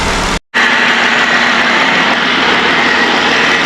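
A Jeep Wrangler's 3.6L engine runs steadily after a motor swap, a loud, continuous drone with a brief gap near the start, then an unbroken hum throughout with no talk.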